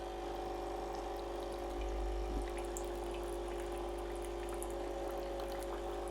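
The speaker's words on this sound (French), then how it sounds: "Allez, lançons le café maintenant. Et ça coule." A coffee machine brews a refillable capsule, a steady low pump hum with liquid trickling into a cup, continuous and fairly quiet throughout, with a brief swell partway through.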